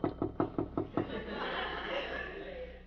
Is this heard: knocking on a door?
yes